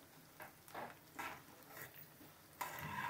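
Fenugreek and cumin seeds fry in a pan for beetroot gongura pachadi. Quiet sizzling comes in several short bursts as they are stirred, followed by a louder, steadier sizzle at the end.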